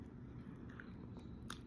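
Someone wearing braces chews fries close to the mic, with soft wet biting and mastication sounds that stay faint and quiet under low background noise, broken by a couple of small crunchy clicks near the end.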